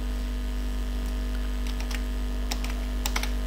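Keys tapped on a computer keyboard in short bursts of a few quick clicks, close but quiet over a steady low electrical hum, no voices.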